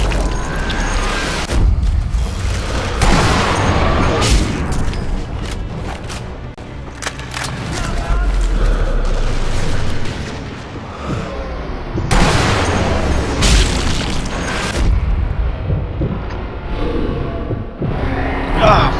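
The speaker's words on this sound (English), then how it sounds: "I'm getting shot at." Gunfire and explosions in the video game Sniper Elite V2, loud booms and rattling shots in dense bursts throughout, with someone talking over the combat.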